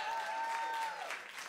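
Audience applause at an album launch, a dense wash of clapping that holds steady for a moment and then thins slightly, with a sustained tonal note running underneath.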